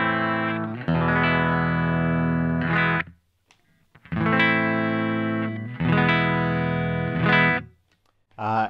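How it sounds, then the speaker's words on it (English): A Fender Stratocaster electric guitar played through a Seaweed fuzz pedal, sustained distorted chords ringing in several phrases separated by short silences, loud and close. "Today I'm playing my Fender Stratocaster, which sounds like this."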